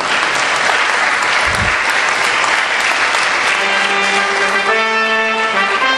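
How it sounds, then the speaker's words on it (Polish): Audience applause for award winners at a press photography prize ceremony, broad sustained clapping from a large hall crowd, loud and steady, with a brief low thump and a sustained musical tone joining near the end. "Wielkie, wielkie brawa."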